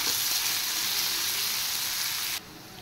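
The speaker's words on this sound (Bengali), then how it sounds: "এবার পেঁয়াজগুলো একটু ফ্রাই করে নেব রসুনের সাথে।" Chopped onions and garlic fry in a pan for an egg dish, a close, even sizzle that suddenly drops to a softer hiss near the end.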